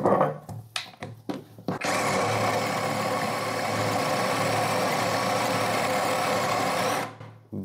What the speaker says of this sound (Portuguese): A utilização da parafusadeira com a broca de 25 milímetros.